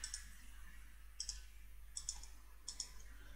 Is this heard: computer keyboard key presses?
yes